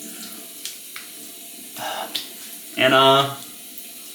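Tap water runs briefly for rinsing after a straight razor shave, a short close splash near the end that follows a few small clicks and soft handling sounds.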